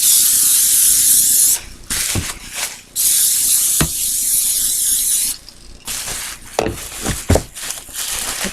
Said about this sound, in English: I'm going to spray this bubble wrap because I want to use it again.